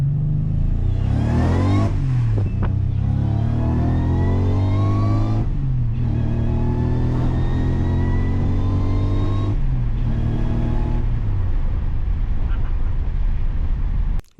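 Supercharged Subaru Legacy engine with a smaller supercharger pulley revving hard through three rising pulls, each climbing to a high whining pitch before a gear change, loud and close with a steady drone between.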